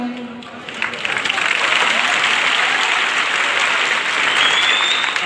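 Loud audience applause fills a university hall at a poetry recitation, swelling after a quiet opening and holding as steady, dense clapping from a large crowd, with faint voices underneath.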